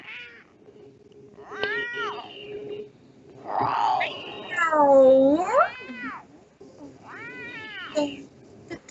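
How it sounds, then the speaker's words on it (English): Several cats meow and caterwaul in the video game NiGHTS, long drawn-out wailing calls rising and falling, close and fairly loud, with a steady low hum beneath. "Yeah, that's a lot of cats"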